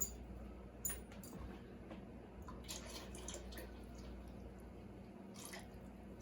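Milk is poured for mac and cheese in a soft, continuous stream with light splashing, fairly quiet and steady throughout in a kitchen.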